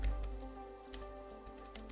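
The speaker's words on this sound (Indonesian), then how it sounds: "untuk melakukan migration, ketik aja perintah ini" Sparse keystrokes on a computer keyboard entering a Python Django migration command, with a few faint, separate clicks over a low background hum.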